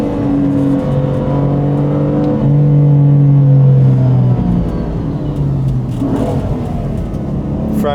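A BMW M4 cruises along with a steady, loud engine drone heard from inside the car, the pitch sliding slightly up and down with throttle and a brief rise near the end.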